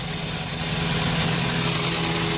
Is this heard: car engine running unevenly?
yes